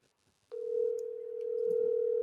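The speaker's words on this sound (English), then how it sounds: "I'm going to call Jake, phone a friend" A steady phone ringback tone sounds while placing a call to a friend, starting abruptly after a quiet moment and holding continuously and fairly loud to the end.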